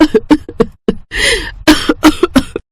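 A person coughs repeatedly, a string of sharp, close coughs broken by a rasping, wheezy intake of breath in the middle.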